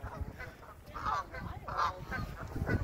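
Canada geese honk at a pond, several loud nasal calls repeating in quick bursts close by, with rustling and bustle underneath.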